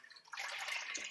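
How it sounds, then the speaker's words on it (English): Milk poured from a container into a pan makes a soft splashing trickle that starts faintly and then swells into a steady, bright liquid stream close by. "So we're going to pour this into a pan right now."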